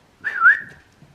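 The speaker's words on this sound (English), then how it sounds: "I accidentally whistled you like a dog, not a fucking cat call." A person whistles a single short, rising call, like summoning a dog, close and clear, lasting about half a second against a quiet room.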